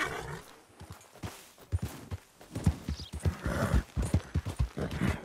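Horse in Red Dead Redemption 2: a steady rhythmic clip-clop of hooves, close and clear, with a neigh mixed in over quiet background.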